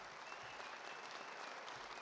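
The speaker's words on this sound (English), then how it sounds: "Let's give all these inductees a great round of applause." Steady applause from a hall of fame ceremony audience greeting inductees, fairly quiet and even throughout, a continuous wash of clapping with no voices standing out.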